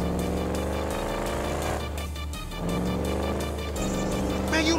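A powerful motorcycle engine roars and revs continuously in Grand Theft Auto V, loud and close with a brief dip in pitch midway before climbing again, with a voice faintly under the engine.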